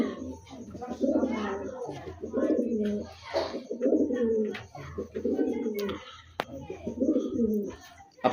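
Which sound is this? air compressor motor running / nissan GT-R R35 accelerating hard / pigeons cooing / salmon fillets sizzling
pigeons cooing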